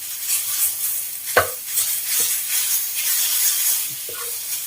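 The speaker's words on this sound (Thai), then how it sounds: "ผัดจนเส้นจะสุกสุก" Shredded papaya being stir-fried in a pan, a steady hiss and sizzle with a few sharp clacks of the utensil scraping and tossing the strands.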